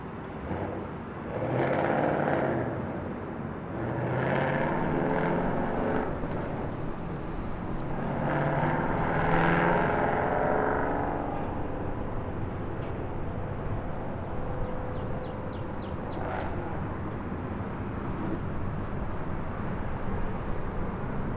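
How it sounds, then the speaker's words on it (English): A JetBlue airliner arriving from San Juan at Raleigh-Durham airport gives a steady, broad jet roar that swells and fades over about twenty seconds, moderately close. It is heard alone, with no talk over it. "There's our JetBlue from San Juan."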